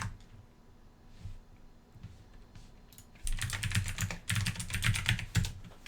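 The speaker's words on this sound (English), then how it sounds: "I hope the keyboard is not too loud." Quick clicking keystrokes on a computer keyboard, sparse and soft at first, then a dense, louder burst of rapid typing in the second half.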